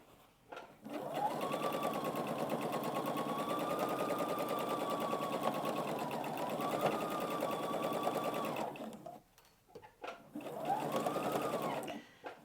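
A sewing machine stitches a table runner in a long, even whir lasting about eight seconds. It stops briefly, then gives a shorter second burst.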